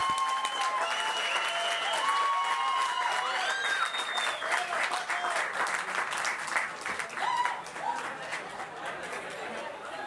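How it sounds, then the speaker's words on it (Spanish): Crowd applause at a Campus Party tech event, loud sustained clapping mixed with cheers, whistles and shouting voices, easing slightly toward the end. "Gracias, un aplauso,"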